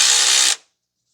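A short burst of power-tool whirring on the alternator belt tensioner of a 2012 Toyota Corolla 1.8, loud and close, running steadily for about half a second before cutting off abruptly into silence.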